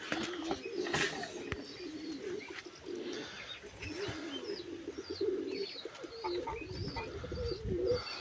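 Pigeons coo steadily in low, throaty burbles, several birds overlapping close by with faint chirps and rustling in the background.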